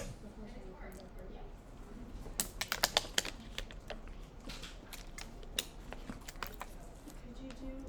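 Clicky keystrokes on a computer keyboard while entering a standard deviation formula in a spreadsheet, coming in irregular bursts with a quick flurry in the middle, close and fairly quiet over low room noise.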